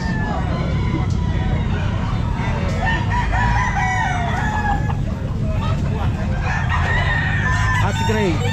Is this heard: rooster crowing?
yes